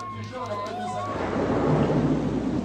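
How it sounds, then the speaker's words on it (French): Heavy rain pours at the first stage of the 2015 Tour de Normandie cycling race, a dense, steady hiss that swells louder after a low voice-like hum fades in the first second. "La pluie s'est conviée à la première étape du Tour."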